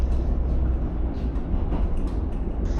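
Steady rumble and rattle of a 1960s second-class narrow-gauge railway car on the Balaton Economic Railway, heard from inside while running, with continuous low wheel and body noise and light clatter, no talking.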